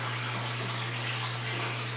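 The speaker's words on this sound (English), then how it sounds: "I do have air stones in these grow beds just to keep the roots nice and healthy" Air stones steadily bubble water in a basement aquaponics grow bed, a continuous close hiss of fizzing bubbles over a constant low hum from the pump or aerator.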